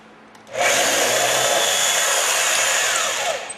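After a quiet moment, a drill kicks in and bores steadily with a loud, harsh grinding whine, close by, easing slightly near the end, during installation of a countertop water cooler.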